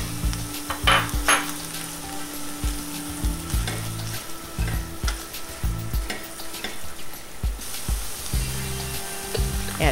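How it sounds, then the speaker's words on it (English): Ground pork and diced onions sizzling in a small saucepan, a steady loud frying hiss broken by repeated scraping and stirring knocks of a utensil against the pan. "I've added my ground pork to a small saucepan, now I'm breaking it apart."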